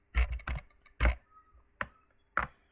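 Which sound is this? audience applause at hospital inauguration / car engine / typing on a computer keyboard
typing on a computer keyboard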